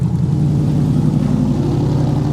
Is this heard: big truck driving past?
yes